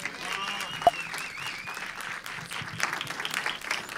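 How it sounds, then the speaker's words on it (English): A church congregation claps steadily, a dense even patter of many hands at moderate distance, with a voice speaking faintly underneath. "Come on, put your hands together."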